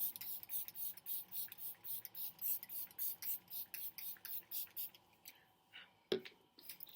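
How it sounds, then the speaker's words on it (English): A rapid series of short, soft, breathy spritzes of Glam Glow Glow Setter setting spray pumped onto a face in an even rhythm, close and quiet, ending with a small click. "I would just finish that off with a setting spray"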